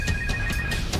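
A telephone rings in a steady repeating electronic pulse, several short bursts in a row, loud and close over a low background murmur, with no voices.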